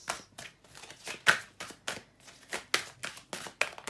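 Tarot cards are shuffled by hand in quick, uneven bursts of riffling and sliding, about ten sharp papery strokes close to the microphone with short pauses between.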